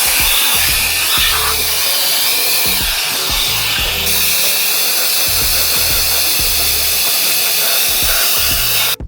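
A handheld blower with a pointy tip nozzle roars in a loud, steady, hissing rush of air, running continuously and close up before cutting off abruptly at the end.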